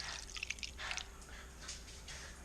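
Wolfgang Uber Rinseless detailing spray is poured into a bottle, giving a quiet, soft trickle and splash that comes in a few short surges over a couple of seconds.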